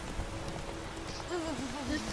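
Rain in The Witcher 3 video game, a soft steady patter of rainfall under quiet game ambience, with voices talking over it.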